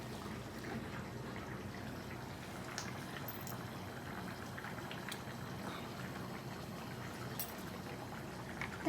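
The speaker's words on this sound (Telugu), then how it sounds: "ఇప్పుడు ఆయిల్ హీట్ అయింది కదా, మనం కొన్ని పోపు సామాన్లు వేసుకోవాలి." Tempering spices sizzling in hot oil in a tiny miniature cooking pan, a faint, steady, soft crackle and fizz with occasional small pops, heard alone without talk.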